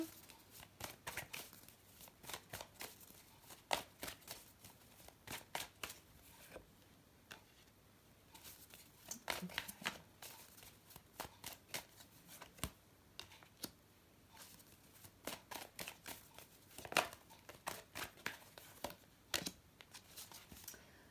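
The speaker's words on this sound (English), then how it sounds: "I'm just going to pull a couple cards here" Tarot cards are shuffled and drawn, producing rapid, soft riffling flutters and crisp card snaps in irregular bursts, close and fairly quiet with no talking.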